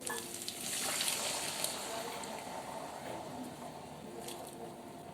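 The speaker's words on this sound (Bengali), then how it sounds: "তারপর এর মধ্যে সেদ্ধ ডালগুলো দিয়ে দেবো জল সমেত" Boiled chana dal with its cooking water goes into a hot pan of sautéed spices for a potato and dal curry, producing a close, steady sizzle with wet squishing and stirring sounds.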